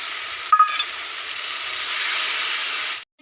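Chili powder and turmeric paste hits hot oil with fried onion and garlic, a steady loud sizzle that swells and hisses continuously after a brief clatter at the start, no voices.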